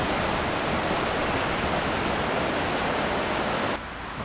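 A loud river rushes past a riverside spot as a dense, constant roar of water close by, with no voices, ending abruptly.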